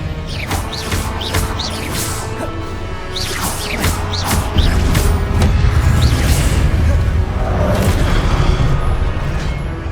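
Blast spell explosions in Hogwarts Legacy, a run of sharp booms and crashing impacts with whooshing bursts, loud and layered over continuous game ambience and music.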